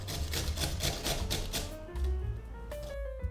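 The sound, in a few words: grating green radish on an old-fashioned grater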